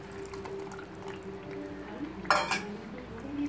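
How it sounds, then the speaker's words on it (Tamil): Tamarind solution poured into a pan of Singapore-style fish sambal with sautéed masala gives a short splashing burst near the end over a low, steady kitchen hum. "இப்போ இந்த ஸ்டேஜில் நம்ம இந்த புளி கரைசலை ஊற்றுவோம்"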